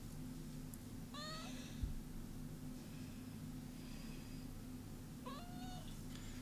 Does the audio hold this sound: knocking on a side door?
no